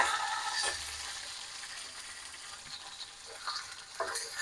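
Ground greens paste frying in a pan with garlic and ginger, giving a close, steady sizzle with occasional scraping stirs and small clinks.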